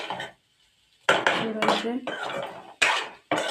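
A metal spatula scrapes and clatters against a pan while stirring a dry egg fry with spice powder, in several sharp bursts separated by brief pauses, with a short spoken word at the start.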